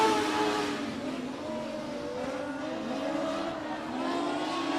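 Race cars at 105 Speedway, a dirt track race, roar at a distance in a continuous engine drone, with revving that rises and falls as they circle the track.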